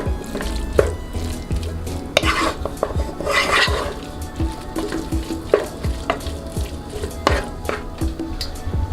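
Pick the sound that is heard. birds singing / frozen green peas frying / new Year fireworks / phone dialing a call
frozen green peas frying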